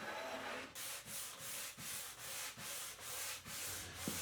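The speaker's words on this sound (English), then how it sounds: "Thing to watch for when you're sanding plywood like this is not to be too aggressive." Hand-sanding the corner of a plywood vanity cabinet, rhythmic back-and-forth strokes, about eight even rasping passes with short pauses between, close and fairly quiet with no talking.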